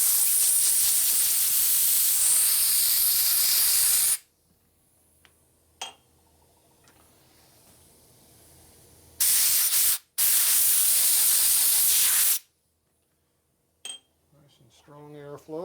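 Compressed air hissing loudly through the passages of a 1961 Harley-Davidson Sportster XLCH transmission during a rebuild, two strong bursts of several seconds each separated by quiet handling noises, with a brief voice near the end.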